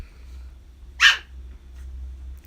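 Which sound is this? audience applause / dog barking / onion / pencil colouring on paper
dog barking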